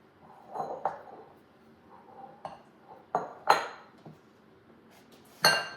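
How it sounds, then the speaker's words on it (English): Chocolate is stirred into heavy whipping cream for a peanut butter, chocolate and caramel pie. Scattered clinks and knocks of a utensil against the bowl come through, with a couple of sharper taps near the end. "Now I'm going to add the chocolate into this heavy whipping cream. Mix all this."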